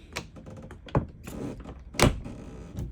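A motorhome's small interior door on an AutoTrail Tracker 2018 swings shut onto a magnetic latch, giving two soft close thunks about a second apart amid light rattling handling noise, quiet and near.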